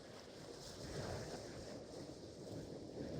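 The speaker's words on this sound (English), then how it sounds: "The wind's blowing westerlies" Westerly wind blowing across an exposed coastline near Holyhead, a steady broadband rush and buffet on the microphone that stays fairly constant and faint throughout, with no talk.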